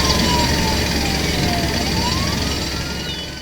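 A wailing emergency siren sweeping slowly up and down in pitch, heard over steady traffic rumble and gradually fading into the distance.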